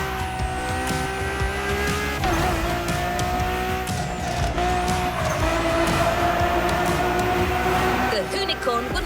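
Fully modified 3rd Gen Camaro race car in a video game, its engine droning and revving continuously with tires squealing and skidding through turns, loud and close, while a voice talks over it.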